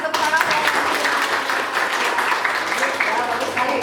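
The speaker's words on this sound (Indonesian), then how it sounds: "kasih tepuk tangan" A class in a lesson gives a short burst of steady applause, dense clapping throughout with voices faintly mixed in.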